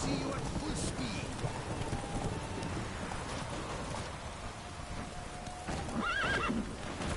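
Horse galloping in The Witcher 3, a steady clip-clop of hooves with whinnies and neighs over a busy game soundscape, with a voice speaking briefly.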